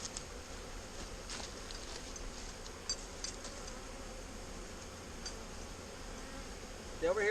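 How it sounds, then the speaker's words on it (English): Honeybees from a newly installed package hum densely around a syrup feeder inside the hive, a steady close buzzing drone throughout with a slightly louder burst at the end. "the bees are all over the syrup"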